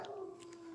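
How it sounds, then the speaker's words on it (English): A dog whines in the background with a thin, steady high-pitched tone, faint and distant. "The poor dog's whining in the background."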